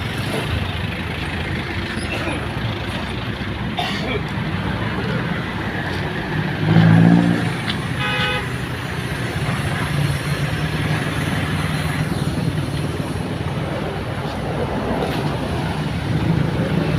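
Steady road traffic rumbles past on a busy street under construction, a continuous broadband wash of engines and tyres with one louder vehicle swelling by midway, heard from nearby.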